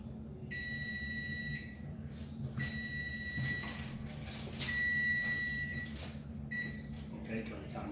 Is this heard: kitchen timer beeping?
yes